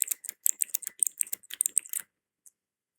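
A small keyboard keychain fitted with four blue switches, clicked rapidly by hand: about two seconds of crisp, bright, close clicks in quick irregular succession, then one lone click after a short pause.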